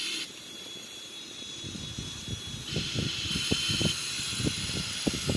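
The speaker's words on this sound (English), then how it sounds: "now we're gonna start the right wing engine" Right wing engine of a Boeing 777-300ER spooling up during start, a rising whine over steady cockpit hiss with rhythmic low thumps building in the background, no talk.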